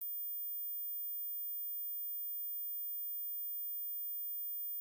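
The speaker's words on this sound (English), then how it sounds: "If you heard this high frequency sound, like the video and leave a comment." A steady high-pitched electronic sine tone plays alone, holding constant and faint for about five seconds with no other sounds.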